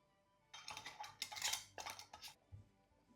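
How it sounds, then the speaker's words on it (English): Metal lids and screw rings are set onto glass jars of pickled kumquats, making a close, quiet cluster of clinks, taps and light scrapes over about two seconds. "Place the lids on, and then the rings, finger tight."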